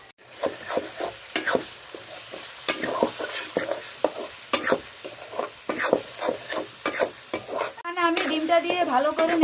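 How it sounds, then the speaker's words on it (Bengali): A spoon stirs egg into pasta frying in a pan, giving repeated scraping strokes over a steady sizzle. The sizzle grows louder and brighter near the end, when more ingredients seem to drop into the hot pan. "আমি ডিমটা দিয়ে ভালো করে নেড়ে চেড়ে নিচ্ছি"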